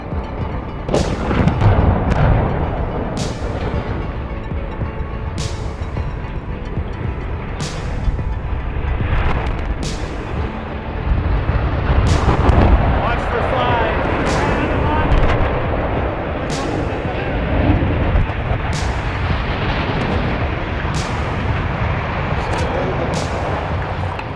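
Explosive demolition of the Nanticoke generating station stacks: a series of loud, sharp charge detonations at irregular intervals over a heavy, continuous rumble, with voices in the background.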